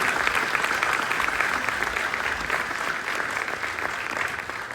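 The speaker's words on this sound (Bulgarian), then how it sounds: "Аплодисменти за майката на Стефан." A group applauds at a birthday celebration, with dense, steady clapping that holds at an even level throughout and no voices standing out above it.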